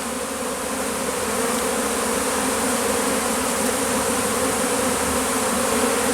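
Honey bee swarm being gathered into a small hive box, giving a dense, steady buzz of many bees that is close and continuous throughout, with no talk.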